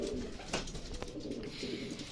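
A racing pigeon coos at the loft during a derby race, soft throaty coos repeating close by over steady background noise.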